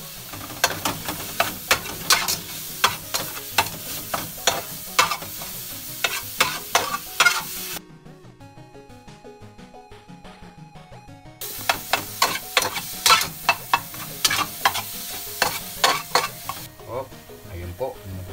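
Pinakbet with coconut milk and salty shrimp paste cooks in a pot, a loud, close bubbling sizzle broken by rhythmic scraping stirs of a utensil, with a quieter pause midway before the stirring resumes.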